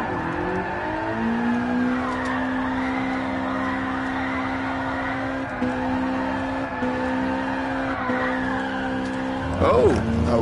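A car engine held flat out in fourth gear during a fast drift run on a Kyoto track in a VR racing game, droning loud and steady with a few brief dips and tire noise near the end, a voice talking over it.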